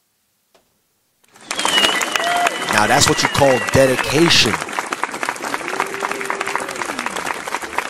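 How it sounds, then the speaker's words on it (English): A crowd claps loudly and steadily for several seconds, starting abruptly after a brief quiet moment, while someone talks over the applause. "Let me clap this up."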